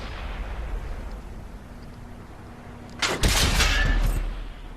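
A KV-4 tank's main gun fires in World of Tanks, a heavy booming blast with a rumbling tail that bursts out after several seconds of low engine drone and battlefield ambience.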